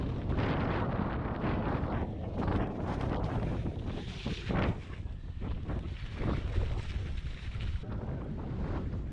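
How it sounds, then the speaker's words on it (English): Heavy wind buffeting the microphone while riding a bike home outdoors, a loud continuous roar that swells and dips throughout, with no talk. "Biking home."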